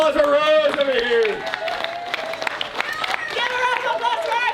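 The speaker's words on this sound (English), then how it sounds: "Give a round of applause for Rose over here." Audience applause at a pirate-themed show at Sterling in 2021, a steady patter of clapping running beneath loud, overlapping voices that talk and call out throughout.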